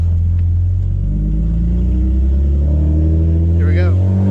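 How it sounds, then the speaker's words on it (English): Manual-swapped Infiniti G35 sedan engine rumbling loud and close from inside the cabin, rising in pitch toward the end, with a voice talking over it. "I cannot believe I'm driving my manual swap sedan after only 2 weeks of working on it."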